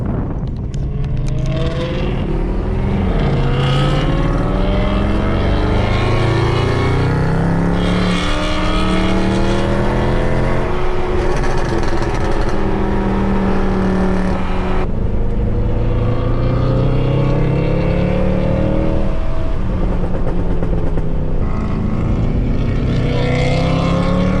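A 550 horsepower Mercedes C63 AMG with a dual-clutch gearbox roars loudly on a race track, its engine note rising and falling through repeated hard accelerations and gear changes, continuous and close throughout.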